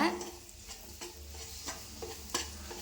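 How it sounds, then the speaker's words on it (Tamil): A pan sizzles steadily as garlic paste is sautéed and stirred, with soft scraping strokes recurring every half second or so, close and moderately loud. "அப்படியே இதை கொஞ்சம் ஒரு 10 செகண்டு வதக்கி விடலாம்."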